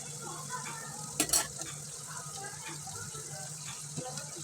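Chicken curry with potatoes frying in a pan, stirred with a utensil: steady soft sizzling and scraping, with a few sharp clinks against the pan.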